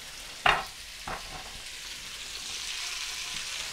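Onions and peppers stir-fry for pork chow mein in a wok, a soft steady sizzle with a couple of sharp clanks of a utensil against the pan near the start.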